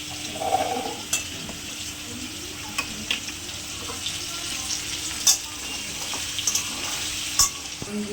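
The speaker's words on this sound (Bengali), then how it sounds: "এবার মশলাটা দিয়ে দেবো" Spice paste frying in a pan of potato and pointed gourd, a continuous moderate sizzle broken by occasional sharp spatula scrapes and stirring clicks, with no talking.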